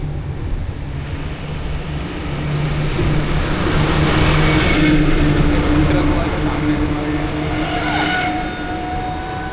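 Truck engine on a road in rural Nepal, a steady loud rumble that swells and holds for several seconds with continuous road noise.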